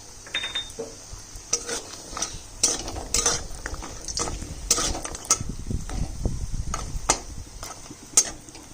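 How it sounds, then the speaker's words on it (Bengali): Lentil dumplings (dal bori) fry in oil that was first used for frying fish, a soft sizzle beneath repeated scraping stirs and sharp metal clinks of a spoon against the pan, irregular and close. "এখানে তো মাছ ভাজা তেলে আমি ডালের বড়ি ভেজে নিচ্ছি"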